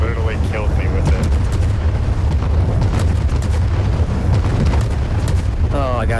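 Cannon fire and booming blasts in the airship combat game Worlds Adrift, loud and steady throughout with repeated heavy thuds, voices talking over the battle.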